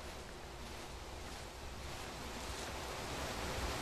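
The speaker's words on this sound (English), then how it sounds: "the wind is picking up again" Steady broadband wind blows through a horror game level from SCP-106 escape, a constant rushing whoosh with no voices, slightly swelling toward the end.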